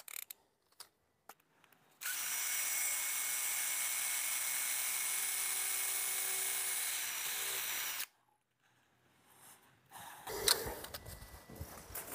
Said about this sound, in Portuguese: No martelete eu vou usar uma broca 13 milímetros e uma broca um pouco mais longa